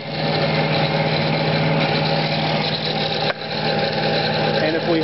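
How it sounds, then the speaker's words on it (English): Central vacuum motor with its intake blocked: a loud, steady droning whine that holds continuously, with one brief dip partway through. "when you block off the intake, the motor runs more slowly and is using more electricity"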